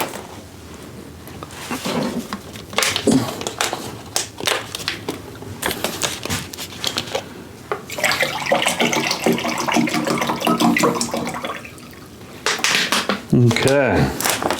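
Two cups of tap water are poured into a blackberry lemonade moonshine mix, giving splashy pouring with clinks and handling noises, while someone talks over it.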